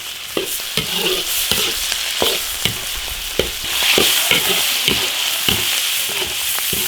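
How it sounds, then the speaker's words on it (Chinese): Octopus tentacles stir-fried in an iron wok, a steady close sizzle broken by regular scraping strokes of the spatula, roughly one every half second, with no voices. "把它水分煸干"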